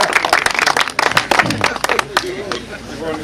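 Audience clapping at a dog show, dense and steady applause that carries on under a voice talking over it.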